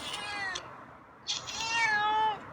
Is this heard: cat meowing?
yes